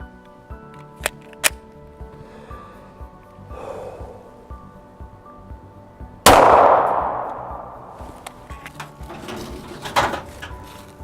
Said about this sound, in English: The next round I'm going to fire is the 180 grain full metal jacket 40 caliber